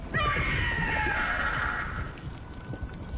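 The Gloomhowler creature in Dragon Age: The Veilguard lets out a loud, shrill, wavering scream that rises sharply, holds for about two seconds, then fades over a rumbling, rain-like background.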